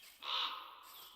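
A crow caws once, loud and drawn out, in the Minecraft video game, with a fainter call starting right after it and no talking.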